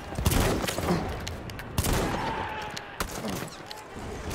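Battlefield 1 battle gunfire: rapid bursts and single sharp shots crack close and distant over a constant noisy din of combat, loud and uneven in rhythm.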